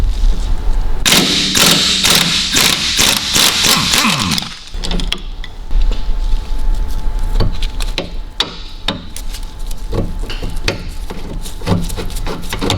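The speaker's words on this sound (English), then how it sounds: "So I'm going to zip that with the air gun." Pneumatic air impact gun undoing a bolt on an Audi Q7 4L front suspension strut, a loud rattling burst of rapid hammering blows, followed by quieter metallic clinks and knocks of tools and parts close by.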